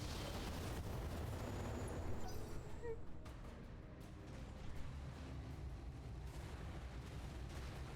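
Mech weapons fire in the BattleTech video game, a rough, low rumble broken by a few muffled blasts and bursts, fairly quiet and spread across the stretch.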